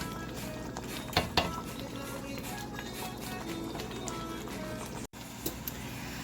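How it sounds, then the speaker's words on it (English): Efo riro, a Nigerian spinach stew with dried shrimp, simmers and sizzles steadily in a pot, with a couple of brief utensil clinks near the start and a short break near the end. "I'm just gonna let it cook for a couple minutes, and then I'm gonna add our chopped spinach to it and cook that down"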